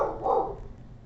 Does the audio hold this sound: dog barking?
yes